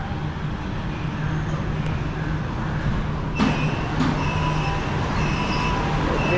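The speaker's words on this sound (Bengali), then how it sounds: "ট্রেন চলে আসছে।" A metro train runs through Shenzhen, China, with a continuous low rumble and hum, steady and fairly loud, and a couple of brief sharp clanks partway through.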